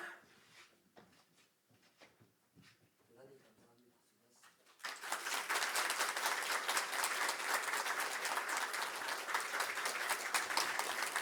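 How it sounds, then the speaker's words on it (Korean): Church congregation applauding during a Sunday worship service, with talk over the first half before a dense, steady burst of clapping fills the room and continues loudly to the end. "다시 한번 힘차게 격려 박수 하십시오."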